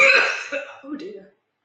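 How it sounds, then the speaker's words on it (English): A person clears their throat in a few harsh, rasping bursts up close, then the sound stops abruptly into silence. "while I just clear my throat"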